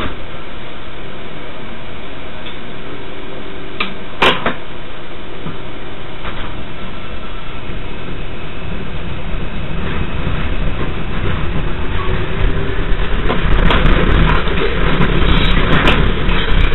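Steady rumble of a New York City 5 local subway train in motion, with rail clatter and a few sharp metallic squeals, growing a bit louder toward the end.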